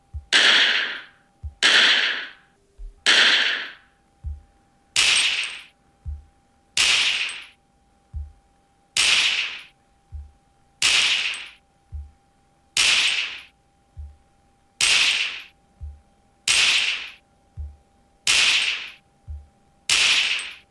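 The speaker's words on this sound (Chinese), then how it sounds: "我3款都会用这个枪声去测试一下它低延迟的感觉" A gunshot sound effect played through FIIL T1 Pro true wireless earbuds in low-latency mode, about fourteen loud, sharp shots repeating at a steady rhythm of roughly one every one and a half seconds, each followed by a short decay and with no talking.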